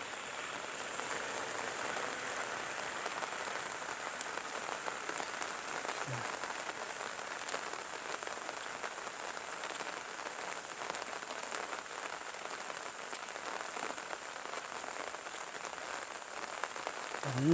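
Steady all-day rain in rural Thai countryside with rice and grass fields, a soft continuous hiss of drops on surfaces, even and moderately quiet throughout with no voices.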